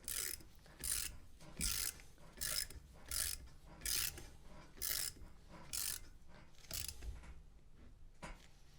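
A collet is tightened back up after a dab of grease, a rhythmic series of about ten ratcheting, rasping strokes in a steady cadence, close and fairly loud, with a quieter final stroke.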